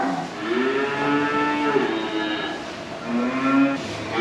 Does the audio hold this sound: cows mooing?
yes